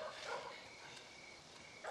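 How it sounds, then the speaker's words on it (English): A dog barks faintly in the distance, a few muffled yaps over a steady low background hum. "Dog's barking again."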